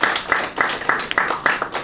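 Applause for teachers at a national primary school diabetes quiz event: a short burst of scattered hand clapping from an audience in a hall, close and moderately loud, with a little voice mixed in.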